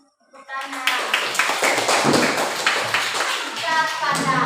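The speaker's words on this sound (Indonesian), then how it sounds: "Tepuk tangan." A class of children applauding after a student's presentation: lively, dense clapping that starts suddenly and keeps going with a scattering of voices underneath.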